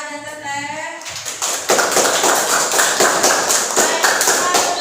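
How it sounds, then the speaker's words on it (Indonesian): Classroom applause for student presentation groups, starting after a brief voice and swelling into loud, close, continuous clapping from a group of pupils. "Beri tepuk tangan Aha dan Teteh."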